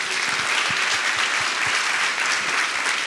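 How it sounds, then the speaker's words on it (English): Sustained audience applause at a senators' event, dense steady clapping filling the whole stretch at even loudness with no talk over it. "Round of applause for that."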